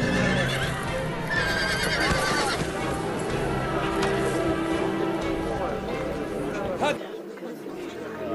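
A horse neighs loudly and repeatedly amid clip-clopping hooves and commotion, with people shouting and chattering over the scuffle throughout.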